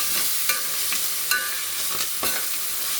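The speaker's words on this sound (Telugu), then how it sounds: "అల్లం ఎల్లిగడ్డ వేసిన తర్వాత పచ్చి వాసన పోయేంత వరకు ఫ్రై చేసుకోండి" Ginger-garlic paste fries in a pan on low heat with a continuous bright sizzle, broken by several distinct stirring scrapes and clacks at irregular intervals, close and fairly loud with no voices.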